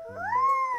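A voice imitates a cat with a single short, rising meow, close and clear, with no other talk.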